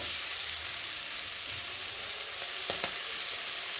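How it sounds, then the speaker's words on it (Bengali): Cabbage hits hot oil in a pan with cooked potatoes, giving a continuous loud sizzle and hiss of frying, with a couple of brief scraping knocks near the end. "আর এখন আমি বাঁধাকপিগুলোকে ঢেলে দেবো অল্প অল্প করে"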